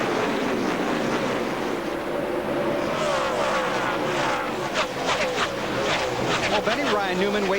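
NASCAR Nextel Cup stock cars race at Dover in 2006, their engines a loud continuous roar that swells as cars pass, under an excited commentator's voice.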